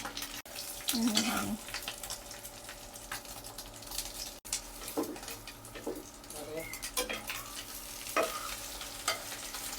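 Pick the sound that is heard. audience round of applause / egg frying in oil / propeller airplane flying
egg frying in oil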